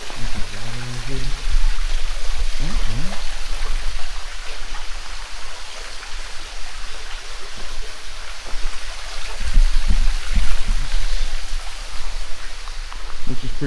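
Water runs steadily through a stream inside a cave, a continuous broadband rush, with people talking over it at times.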